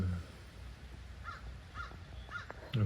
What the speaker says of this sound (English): I don't know if you could hear the crow